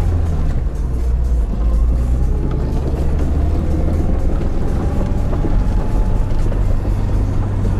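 A Lada Niva drives off-road with its differential locked, the engine a steady, close low drone with a continuous rumble throughout.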